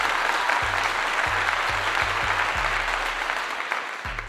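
Applause celebrating a college football cornerback's transfer to Colorado, dense continuous clapping at steady loudness that slowly thins toward the end, with low rhythmic thumps beneath.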